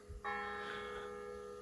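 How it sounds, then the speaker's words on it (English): Church bells ring out in the early morning over a vegetable garden, a sustained, resonant peal with steady ringing tones that starts abruptly and hangs in the air, fairly distant and soft. "there's the bells"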